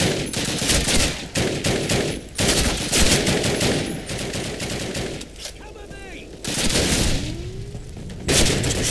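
Rapid bursts of gunfire crackle repeatedly in Call of Duty during a bridge defense mission, some in long automatic volleys, with brief pauses between them, loud and close.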